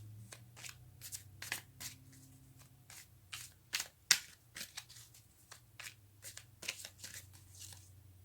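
Tarot cards being shuffled by hand, a quiet run of crisp riffling bursts and soft snaps repeating irregularly over several seconds with no talking.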